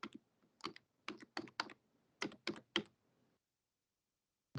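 Computer keyboard keys tapped in quick clustered bursts while entering a health card number, crisp close clicks with short pauses between groups and silence near the end.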